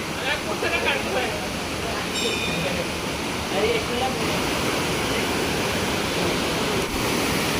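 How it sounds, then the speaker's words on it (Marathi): A waterfall near Kasheli beach roars as a continuous broadband rush of falling water, loud and steady throughout, with people talking over it. "का बघा इकडे पण मस्तपैकी धबधबा आहे"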